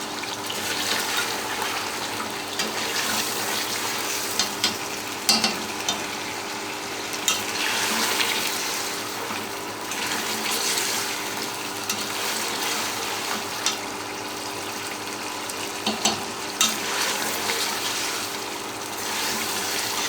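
Goat head meat fries in a pot for a Pakistani curry, a continuous loud sizzle with scattered scraping and clinking as it is stirred, no talking.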